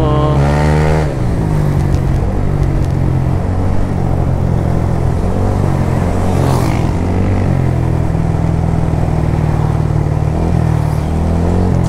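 A Yamaha Aerox V2 scooter motorcycle rides along a road, its engine droning loud and close with steady low rumble and shifting revs, wind buffeting throughout.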